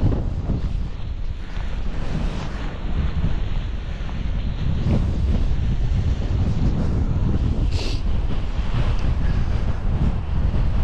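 Strong, gusting wind roars across a ski mountain and buffets the microphone, loud and unbroken throughout with no one talking.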